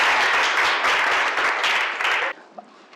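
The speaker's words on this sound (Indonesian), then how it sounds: "Tepuk tangan dulu" Students in a classroom give a burst of hearty applause, dense and loud clapping that stops abruptly near the end, leaving a quiet room with a single faint knock.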